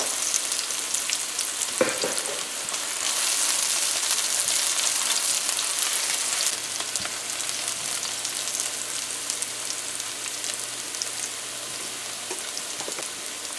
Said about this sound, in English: we're gonna just fry this up for a little bit more, maybe 30 seconds or so